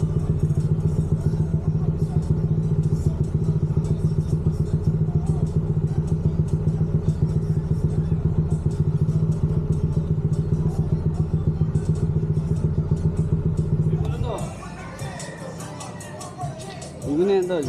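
A motorcycle engine idles steadily with rapid ticking and clatter as the bike is moved out, with people talking nearby, then the engine note drops away near the end.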